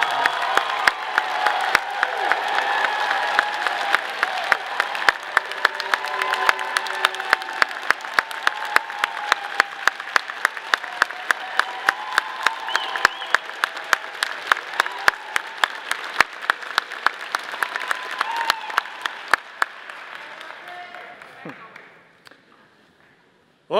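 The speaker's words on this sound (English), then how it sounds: "So let's give him a big round of applause." Commencement audience at Colorado State University's Warner College of Natural Resources giving sustained applause for a retiring professor, a dense roar of clapping with crisp individual claps up front, fading out toward the end.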